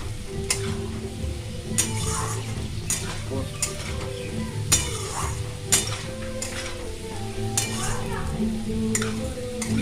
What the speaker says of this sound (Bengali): আলুগুলো লাল লাল করে ভাজা হয়ে এসছে